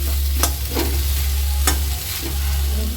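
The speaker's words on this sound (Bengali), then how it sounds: "খুন্তি দিয়ে একটু টুকরো টুকরো করে দিচ্ছি" Food being stirred and broken into pieces with a spatula in a pan: several sharp scraping strokes at irregular intervals over a steady low hum and faint sizzle, with no talking.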